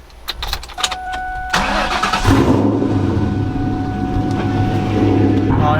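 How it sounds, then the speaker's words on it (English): A Ford Mustang V8 with BBK long tube headers, an off-road X-pipe and a custom straight pipe cold-starts: a cranking whir, then a loud catch into a deep, rumbling, raspy idle that holds steady up close. "This is going to be a cold start that I'm going to hear for the first time."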